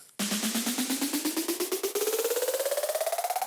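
Build-up snare roll speeding up steadily while its pitch climbs, hits packing closer together into a rising build-up, loud and close.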